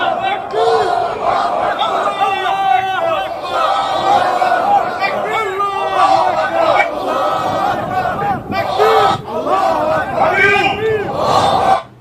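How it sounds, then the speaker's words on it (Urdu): A large crowd marches along chanting slogans and shouting, loud massed voices rising and falling in waves, with overlapping cries and a dense rumble of many people throughout. "جس طرح سے یہ لوگ جا رہے ہیں نعرے لگا کر اور شور کر کے"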